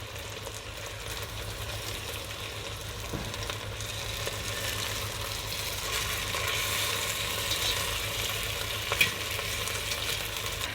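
Chicken pieces and golden onions sizzle steadily in a hot pan, a continuous close frying hiss with occasional scrapes as they are turned, no voices.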